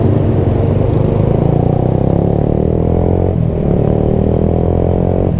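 Motorcycles and a truck crawl through slow, narrow traffic on a cramped road, a steady close mix of engine drone and clatter with a brief dip midway and no talk.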